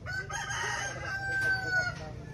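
Chickens at a rural family home, a rooster crowing nearby while hens cluck softly around it, with faint voices in the background.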